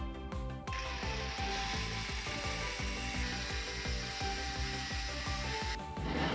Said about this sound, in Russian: Болгаркой выравниваем.